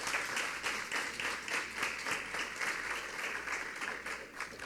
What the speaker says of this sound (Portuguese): Pode aplaudir Jesus